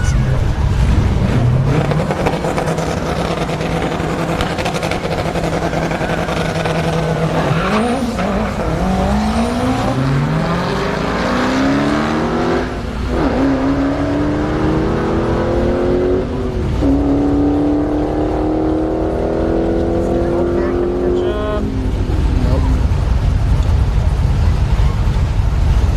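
At a drag strip, a Dodge Challenger Hellcat lines up against a turbocharged Acura RSX, with loud engines revving and pulling away through rising gear changes, a continuous roar close by and crowd noise and an announcer underneath.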